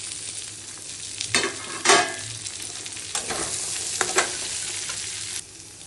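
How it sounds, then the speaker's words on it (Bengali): Jackfruit seeds fry in a pan of hot oil with a steady close sizzle, broken by several sharp bursts of crackling and stirring before the hiss quiets near the end. "এই তেলেই কাঁঠাল বিচিগুলি ফ্রাই করে নেব।"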